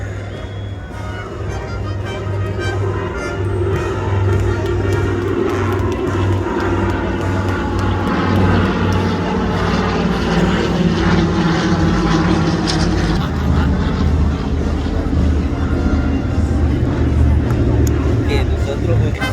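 Airplane engines drone loudly and continuously overhead during an Armed Forces parade flyover in Torrance, a steady roar with a low hum, with faint voices underneath.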